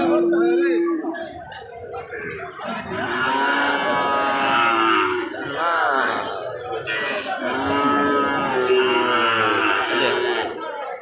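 Cattle at a bull and cow market in Joypurhat ahead of Qurbani moo loudly and close by, several long drawn-out bellows following one another over a soft background of crowd noise.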